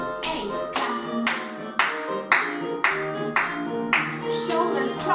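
Hands clapping in a seated music and movement routine, about nine crisp, evenly spaced claps in a steady beat, close and loud over soft background music.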